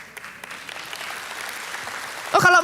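Church congregation applause building softly as a broad wash of many hands, growing slightly louder toward the end, where a short loud burst of voice or sound breaks in.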